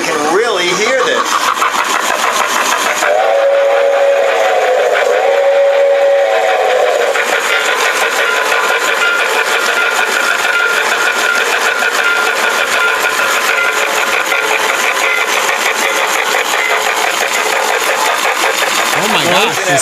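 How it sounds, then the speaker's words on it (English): A small electronic model steam locomotive with special motors runs with its top off, giving a steady mechanical whir and a hissing steam-like chuff, with a short two-tone electronic whistle sounding twice early on, all close and loud. "It has electronic whistle, the sound of steam, puffing smoke, transformer"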